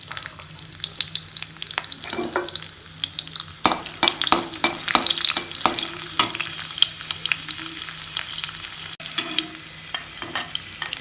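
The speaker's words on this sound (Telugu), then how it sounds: "నూనె వేడెక్కిన తర్వాత ఎండుమిర్చి తరిగి వేసుకోవాలి. దాంతోపాటు వెల్లుల్లిపాయలు," Dried red chillies and garlic sizzle steadily in hot oil in a pan for potato fry, with frequent stirring scrapes and clatter layered over the continuous crackle, fairly close and loud with no talking.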